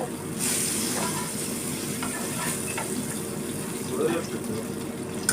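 Peppers fry in a home kitchen pan with a steady, close sizzle, broken by occasional stirring clatter and a brief louder crackle near the end.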